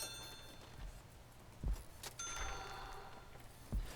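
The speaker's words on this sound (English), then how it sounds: "the bell's gone off" A bell rings in a Prison Architect prison, a faint ringing tone with a short rising shimmer amid soft low thuds and background game noise.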